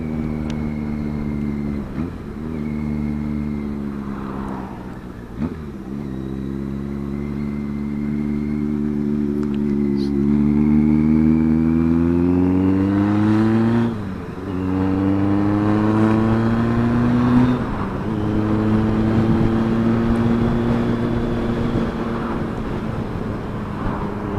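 A Yamaha XS650 motorcycle engine pulls through the gears, its tone climbing steadily then dropping briefly at each of several smooth shifts, heard close and continuously while riding.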